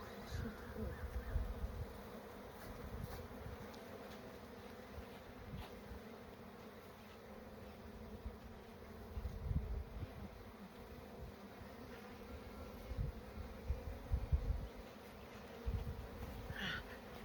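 A constant, close drone of many honeybees buzzing at an open hive during a spring inspection, low and layered, with occasional louder swells as individual bees pass near.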